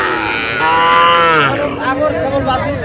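A loud, close moo from an Agar cow at the Ambari cattle market in Dinajpur swells and fades over a couple of seconds, with faint crowd chatter around it.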